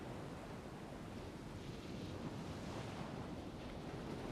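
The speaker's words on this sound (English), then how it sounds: "the rocks slowly drag on each other and whoosh back to where they started." Ocean waves wash over rocks around evening tide pools near a kelp forest, a soft, steady broadband whoosh with gentle surges and some wind noise, heard alone.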